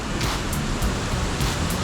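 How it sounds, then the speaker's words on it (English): Falling water inside Cueva del Esplendor makes a dense, loud broadband rush, continuous and close, with faint splashing pulses. "Found some falling water."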